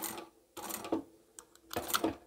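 A home sewing machine stitches fabric for a cutlery roll-up pouch in short bursts of rapid mechanical whirring, stopping and restarting with faint clicks between runs.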